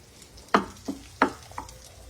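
Ingredients for egg Maggi noodles are mixed in a pan: two sharp utensil scrapes and a couple of softer clinks over a quiet kitchen background.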